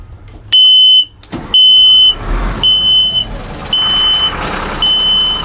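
The low air pressure warning buzzer on a Stewart & Stevenson M1079 military truck blares in loud, piercing on-off bursts, two long blasts and then several shorter sounds over a background of engine noise.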